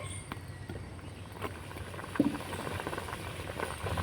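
Semolina pitha batter simmers in a pot with a soft, steady low bubbling, quiet and continuous throughout, with no voices.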